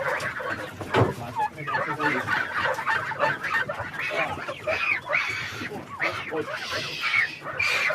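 A grey gander goose honks and calls repeatedly at close range, with harsh, nasal cries coming in quick bursts throughout, while people talk over the noisy poultry.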